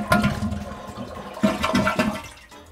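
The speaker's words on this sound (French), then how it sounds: "je tire la chasse d'eau." A home toilet being flushed: a close, gushing rush of water with gurgling surges and splashes that slowly ease off.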